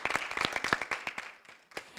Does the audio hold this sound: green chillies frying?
no